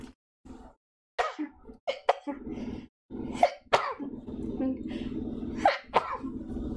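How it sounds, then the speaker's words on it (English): A single sharp sneeze bursts out amid a woman's close, ongoing talk, with a couple of short breathy catches around it. "Oh, I'm gonna sneeze."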